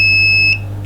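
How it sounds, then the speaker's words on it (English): An incubator thermostat sounds a steady high electronic beep tone continuously, then cuts off partway through, leaving a low hum in the background. "Now as you can hear, the stat is beeping."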